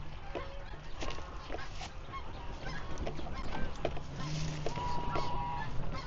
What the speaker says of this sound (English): Geese, I think. But there's a lot of them. Heaps and heaps and heaps.